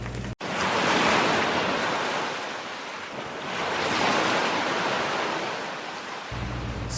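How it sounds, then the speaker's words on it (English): Ocean waves crash onto a shore in a steady, loud broadband roar that swells and eases in two slow surges. Wind noise rides underneath, and no voices are heard. "waves crashing,"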